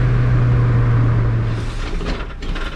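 A Mazda Miata NA engine revs during a downshift while driving, a loud steady low hum that swells and shifts in tone midway as the gear changes, with road rumble underneath.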